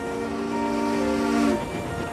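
A cartoon steam engine sounds a sustained whistle-like horn tone over continuous track rumble, the tone cutting off near the end while the running noise carries on.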